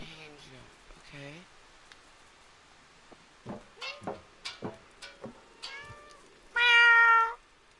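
A cat meows in the video game Stray, sounding quietly amid soft game ambience with light ticking and patter, followed by a louder, longer meow near the end.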